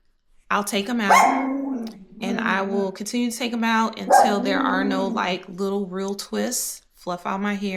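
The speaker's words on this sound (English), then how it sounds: "Sorry for the dog." A dog barks intermittently in a home, mostly buried under a person talking steadily close to the microphone.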